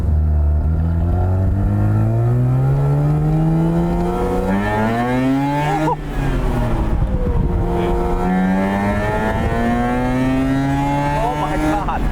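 Carbureted Mazda R100 engine, an old-school JDM car that revs to about 10,000 rpm, climbing in long loud sweeps, dropping sharply, then rising again close up.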